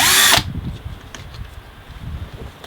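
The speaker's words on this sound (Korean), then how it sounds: "이 구멍을 이 중간에 맞춰서 이렇게 뚫어줍니다" Power drill boring a hole through thin plastic for a fishing rod holder, a short loud burst of whirring that stops abruptly within half a second, leaving faint handling noise.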